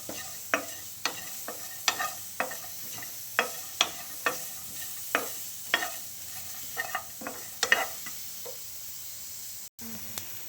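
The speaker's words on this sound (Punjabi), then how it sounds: "ਤੇ ਇੱਥੇ ਆਪਾਂ ਹੁਣ ਪਾ ਦਾਂਗੇ ਪਿਆਜ਼ ਤੇ ਜਿਹੜੇ ਆਪਾਂ ਨੇ ਇਹ ਲਸਣ ਲਿੱਤੀ ਆ ਇਹ ਇਹਨਾਂ ਨੂੰ ਵੀ ਆਪਾਂ ਇਸੇ ਤਰੀਕੇ ਨਾਲ ਹਲਾ ਹਲਾ ਕੇ ਭੁੰਨੀ ਜਾਣਾਗਾ" Onions and garlic roast in a pan without oil, stirred with a spoon in a steady rhythm of about a dozen scraping strokes over a soft sizzle, ending with a brief pause.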